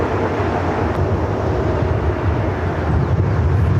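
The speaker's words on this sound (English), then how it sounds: "the Emirates A380 Super heading up here to the north side" Emirates A380 airliner moving on the north side of LAX, a steady low rumbling jet roar, fairly loud and continuous with wind buffeting, no talk.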